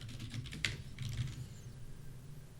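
Quick bursts of keyboard typing, close and fairly quiet, clicking in uneven runs before trailing off over a faint low hum.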